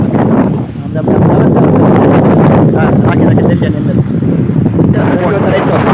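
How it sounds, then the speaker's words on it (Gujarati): Loud gusty wind buffets the microphone in a constant low roar, rising and easing slightly, over water with a boat nearby. "એવો મસ્ત મજાનો પવન આવી રહ્યો છે"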